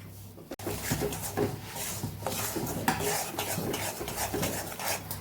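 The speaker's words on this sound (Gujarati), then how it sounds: "અહીંયા લોટ શેકાવા લાગ્યો છે અને ઘી પણ સરસ છૂટું પડવા લાગ્યું છે" Rajgira flour roasting in ghee is stirred steadily in a pan, a continuous close scraping and rubbing of a spoon with a faint sizzle, after a brief quiet moment at the start.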